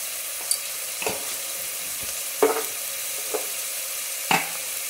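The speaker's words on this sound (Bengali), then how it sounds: "ভালো করে একটু নাড়িয়ে নেব।" Chicken stew with red chilli and turmeric stirred in a pan, giving a few scattered scrapes and soft clinks over a steady low sizzle, with no voices.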